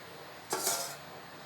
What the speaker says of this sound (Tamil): அடுத்ததாக நம்ம கேரட் பொரியலை ஓப்பன் பண்ணி பார்க்கலாம்.